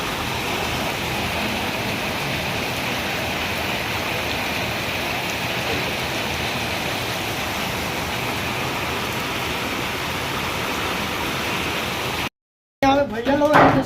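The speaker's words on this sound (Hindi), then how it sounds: "अभी फिर से बारिश स्टार्ट हो गया है।" Heavy rain pours down in a steady, dense roar that stays constant, then cuts out abruptly near the end, followed by a brief burst of other sound.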